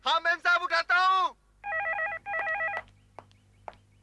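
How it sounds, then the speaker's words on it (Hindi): Telephone ringing indoors in two electronic trill bursts, clear and moderately loud, following a woman's speech, with a few faint clicks and a low hum afterward. "कोई फोन क्यों नहीं उठा रहा है?"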